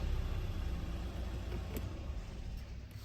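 A Mercedes A-Class with a 1.5 CDI diesel engine idles, giving a steady low rumble that stays even throughout, heard close but fairly quietly with no voices.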